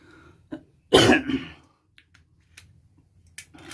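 A few rough coughs and a throat clear up close from a sick person, separated by short quiet gaps with faint clicks.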